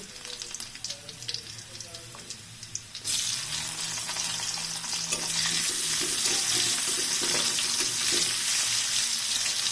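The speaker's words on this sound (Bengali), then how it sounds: "রসুন আর পেঁয়াজ এক মিনিট ভেজে নেব" Chopped garlic and onion cooking in oil in a wok: a quieter start, then a sudden loud burst of sizzling about three seconds in that stays strong and continuous.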